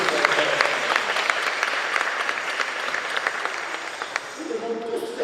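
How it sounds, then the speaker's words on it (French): A church congregation at a baptism and first communion applauds with sustained, dense clapping from many hands, while a voice speaks over it. "Acclamons pour faire plaisir."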